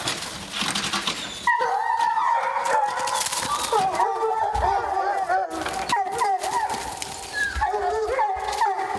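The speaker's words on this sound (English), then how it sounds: "We turned the dogs loose, and they've struck now and going on." A pack of hunting dogs on a bear hunt bays and howls continuously, overlapping yelps and drawn-out cries carrying through the woods, loud and sustained with brief dips between bursts.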